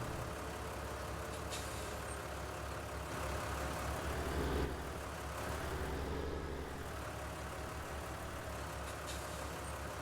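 An older Ford two-wheel-drive tractor engine from Farming Simulator 19 hums in a steady low drone, with a brief swell midway and faint hissing bursts on top.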